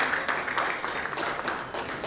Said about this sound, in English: Let's give a huge round of applause to them